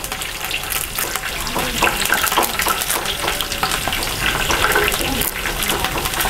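Curry leaves crackle and fry in hot oil for a large batch of chicken gravy, a dense, continuous sizzle with sharp popping bursts, steady and close, with no talking.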